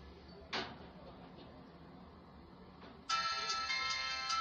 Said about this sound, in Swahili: Simu yetu mlio.